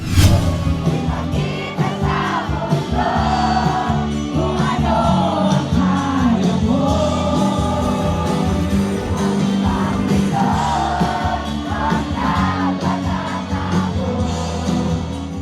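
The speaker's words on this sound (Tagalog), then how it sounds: "Paglabas at opening song pa lang ng banda ay hindi magkamayaw ang crowd at nakikanta sa pop rock band." A large concert crowd of over 20,000 in Naga City cheers and sings along to a 90s pop rock band, a loud, continuous wash of voices with music beneath.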